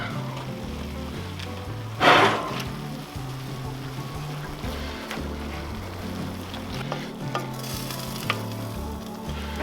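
Ground meat for campfire sloppy joes browns on a Char-Griller Dual Fuel Pro grill, a steady close sizzle running throughout beneath a rumbling low outdoor hum, with one sharp louder burst of hiss and scrape near the start.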